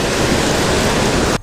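Steady broadband rush of flowing river water along the Hocking River, loud and continuous without a break before cutting off abruptly at the end.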